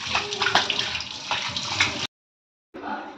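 Water bubbling at a steady boil in a pot while cooking chicken dum biryani, a dense, continuous watery hiss up close that cuts off briefly and then resumes.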